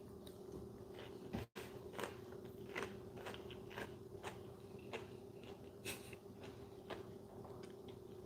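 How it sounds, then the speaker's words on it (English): Someone bites into an uncooked, crunchy air-fried potato, producing a series of faint, close crunches and chewing sounds spread irregularly over several seconds, with no talk. "You can hear the uncooked potato."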